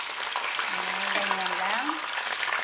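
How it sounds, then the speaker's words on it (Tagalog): String beans (sitaw) fry in hot oil in a pan, giving a dense, steady crackling sizzle close up. A voice murmurs briefly underneath in the middle. "Ipiprito na natin yung ating sitaw muna."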